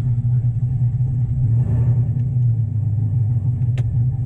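A cammed 2014 Chevrolet Silverado 4WD pickup idles with a loud, lumpy low rumble that swells briefly in a mild rev, then settles back to a steady throb, close and alone.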